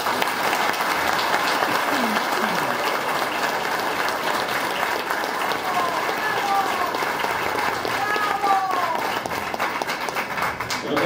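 An audience at a gathering for community collectives claps steadily and moderately loud, with voices and cheering mixed into the sustained applause.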